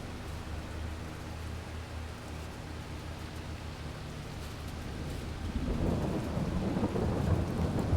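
Steady rain hisses throughout while a low, rumbling roll of thunder swells and grows louder toward the end, in the video game Farming Simulator 22.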